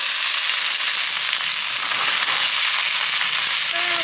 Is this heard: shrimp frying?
yes